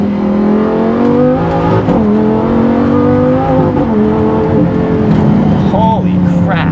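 Lamborghini Gallardo engine accelerating on the road, a loud close rising growl with pitch climbing through gears and a brief shift, while a person talks excitedly over it.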